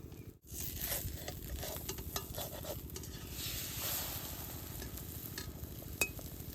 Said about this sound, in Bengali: ডিমাটা সুন্দর করে জোড়া ভাজা করে নেব।